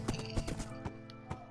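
Horse hooves clip-clop in a survival video game, a few irregular steps close by with a brief whinny-like sound, over steady background game music.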